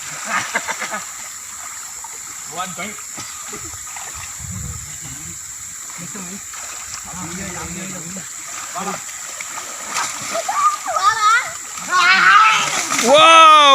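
Children splash and somersault into a canal fed by Courtallam water, with repeated nearby splashes and churning water, while voices chatter and cheer, growing louder toward the end.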